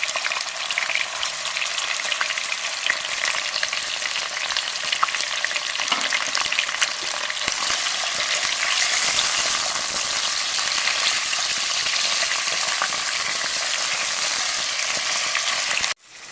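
Steady, loud crackling sizzle of chicken frying in hot oil for chicken korma, continuous throughout with occasional stirring, ending abruptly.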